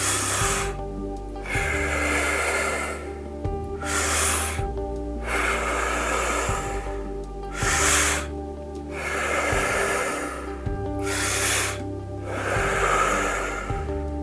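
Deep breathing exercise: slow, forceful inhales and exhales through the nose and mouth, repeating in a steady rhythm close to the microphone over a soft, constant music bed.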